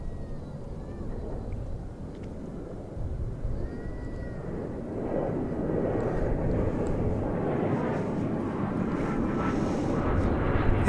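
A Frontier Airlines jet departs DFW Airport, its engine roar building steadily from a moderate rumble to a louder, broader wash over the whole stretch, heard from a distance outdoors.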